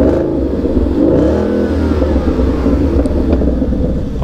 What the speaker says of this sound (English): I'll go ahead and blip the throttle for you a bit, so hopefully you can give it a listen